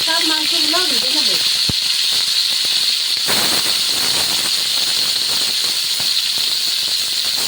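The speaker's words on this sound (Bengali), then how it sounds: "এভাবে আমি সব মাংসগুলো ভেজে নেব" Chicken pieces fry in a hot pan for butter chicken, a steady loud sizzling hiss that persists throughout, with a brief voice at the start and occasional sharper spits and crackles.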